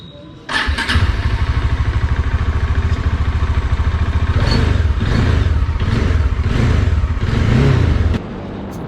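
A motorcycle engine starts abruptly and settles into a loud, steady, close idle with throttle blips partway through, at the start of an Independence Day group bike ride to Mandarmani.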